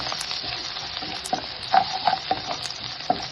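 Garlic sizzling in hot oil in a pan for a potato fry, a steady bright hiss with a few light scrapes and taps of a stirring spoon.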